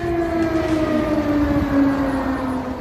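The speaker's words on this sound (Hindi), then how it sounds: "भारत से करीब 5000 किलोमीटर दूर यूक्रेन की राजधानी कीव में बज रहा ये सायरन" An air raid siren wails over Kyiv, Ukraine, a steady sustained tone with a slowly drifting pitch, loud and continuous throughout with no voices.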